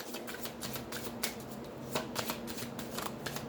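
Healing oracle cards are shuffled by hand, producing close, soft riffling and flicking bursts in a quick, uneven rhythm with no voices.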